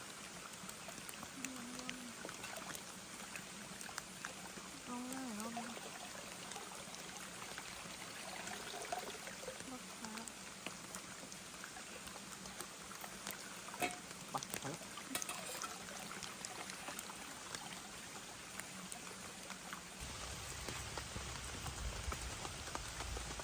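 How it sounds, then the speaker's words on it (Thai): Heavy rain pours down in a forest, a dense continuous hiss of drops on leaves and ground with trickling water, steady throughout and growing slightly fuller near the end, with no voices. "ตอนนี้ฝนก็ยังตกไม่หยุดพี่"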